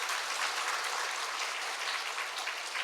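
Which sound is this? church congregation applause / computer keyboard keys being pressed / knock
church congregation applause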